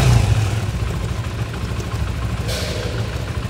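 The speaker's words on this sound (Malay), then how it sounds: "Dia bunyi macam tok tok tok tok tok tok tok tok tok tok tok." Close Modenas ZGT motorcycle engine idling with a fast, steady ticking knock from the top end repeating throughout the short stretch.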